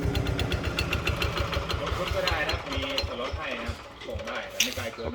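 Tractor diesel engine running near a Yanmar dealer's yard with a stuck throttle, a close, rapid mechanical chugging with wavering revs and clattering, under faint background voices.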